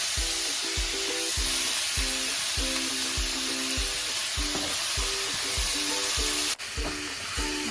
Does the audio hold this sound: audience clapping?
no